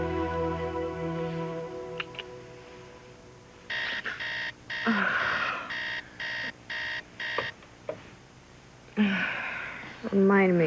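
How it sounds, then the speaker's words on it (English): Alarm clock ringing in a bedroom on a soap opera, a loud rapid pulsing electronic beep in repeated bursts that cut in and out, with a voice speaking before and after. "Remind me to get a new alarm clock."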